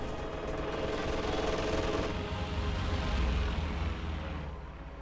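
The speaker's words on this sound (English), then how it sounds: "And a quick strafing run there to cover up the retreat there of the Pack 40." Aircraft strafing run in the Company of Heroes 2 video game: sustained, loud machine-gun fire with rumbling impacts that rolls on steadily for several seconds before fading slightly at the end.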